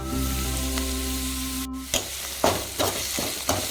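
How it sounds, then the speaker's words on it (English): Onions, green chilies and curry leaves stir-fried for red spinach poriyal. A steady loud sizzle is broken midway by a short silence, then several sharp scraping stirs come at irregular intervals, with no talk. "Now stir fry it till the onions become nice and opaque"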